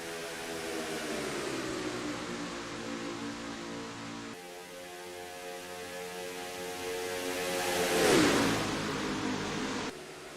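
Race car engines in the NASCAR Racing 2003 video game, a steady pack of droning, buzzing motors with shifting pitch that swells and peaks as cars pass close, then continues alone.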